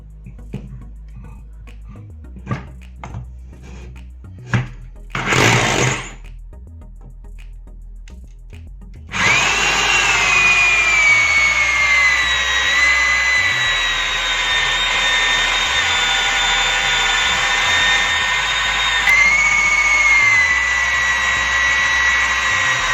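A 900 watt drill fitted with a hole saw cuts a round hole in wood: a few quiet clicks and a short burst first, then a loud, steady high whine for over ten seconds as the drill spins, close up.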